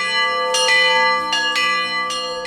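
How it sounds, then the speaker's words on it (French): Church bell at Ein Karem ringing for the eve of Saint John's feast, with rich sustained harmonic tones and repeated strikes roughly every three-quarters of a second, loud and close, each new stroke over the ringing decay of the last, with no voices. "la cloche sonne pour annoncer le début de la célébration"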